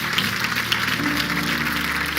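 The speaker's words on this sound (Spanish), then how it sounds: "Dale un aplauso fuerte al Señor" A church audience gives a loud, continuous round of applause, a dense wash of clapping that fills the room and holds steady, with faint music underneath.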